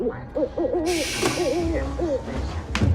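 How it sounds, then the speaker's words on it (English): Owl hooting in a horror film jump scare from Us, several wavering hoots in a row over a sudden loud noise burst, with a sharp crack near the end. "The fake jump scare with an owl creates more uneasiness"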